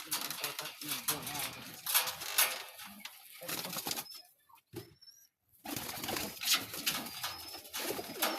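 Blue pigeons coo and rustle close by, with wing flaps and soft calls mixed in while a person talks over much of it and a short quiet gap falls midway.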